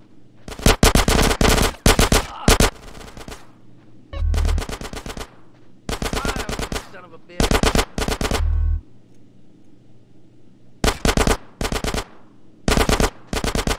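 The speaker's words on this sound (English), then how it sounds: "Give me some fucking covering fire!" Machine gun fire in an action scene: loud, rapid bursts, some short and some sustained, repeat over several seconds with a low hum beneath.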